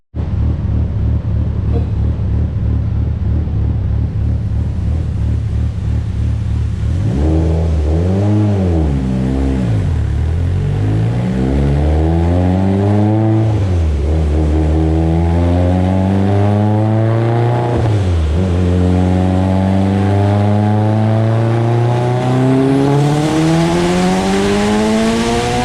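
A Mitsubishi Evo X with a bored and stroked 2.4-litre turbocharged engine pulls hard on a dyno, holding a loud steady drone, then rising through repeated revving sweeps that climb higher and higher with no one speaking.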